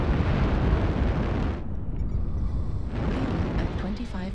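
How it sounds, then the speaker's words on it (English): Artillery shells burst in MechWarrior Online: a loud, close, rumbling barrage of explosions that dips briefly and then swells again, with a voice faintly heard under the blasts. "Oh, artillery."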